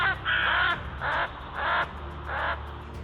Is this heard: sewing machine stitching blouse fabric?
no